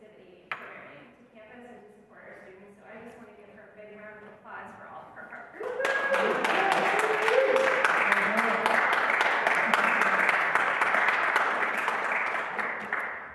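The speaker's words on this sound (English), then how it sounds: "I just want to give her a big round of applause for all of her hard work." Audience at a campus event bursts into steady, dense applause after several seconds of a voice speaking, the clapping staying full and even until it tapers at the end.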